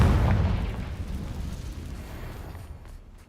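In Hogwarts Legacy, a Confringo blasting spell sets off a single deep boom that starts loud and then rumbles away over a few seconds.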